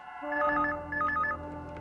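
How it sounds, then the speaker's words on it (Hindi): A telephone rings in two short trilling bursts, clear and close, with no voices over it. "फोन उठाओ"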